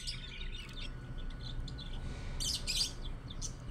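Pet birds chirp and tweet in quick, bright bursts, louder near the end, over a low steady background hum, with no talking.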